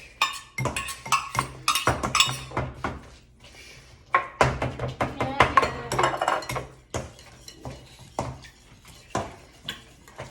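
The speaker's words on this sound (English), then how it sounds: "And then hit it with the whisk." A whisk striking and clinking against a bowl while ingredients are mixed in a home kitchen, in irregular bursts of rapid metallic taps with short pauses, fairly close.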